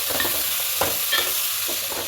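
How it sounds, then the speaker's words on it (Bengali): Steady frying sizzle with a spoon repeatedly scraping and stirring rice with spiced vegetables in a pan for paneer pulao, several distinct strokes close up. "চালটা দিয়ে খুব ভালো করে এভাবে নাড়তে থাকবো"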